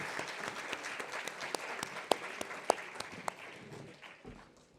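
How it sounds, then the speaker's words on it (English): An audience at an International Women's Entrepreneurship Day event applauds a speaker after her address, steady moderate clapping with a few sharp louder claps. "Let's all give her another huge round of applause"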